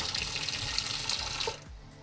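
Water runs steadily into the reservoir of a budget automated misting system in a greenhouse, a continuous splashing fill that cuts off abruptly near the end.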